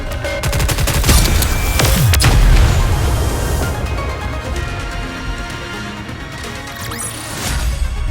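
Dense, continuous gunfire and heavy explosions from the mobile shooter game Goddess of Victory: Nikke, a loud rumbling barrage with booming hits that thins slightly midway before swelling again.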